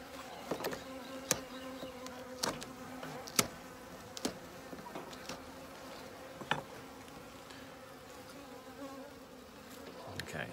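Honeybees humming around an open top bar hive during a midsummer inspection, a continuous close buzzing drone with occasional louder passes and light knocks of the frames, no talking.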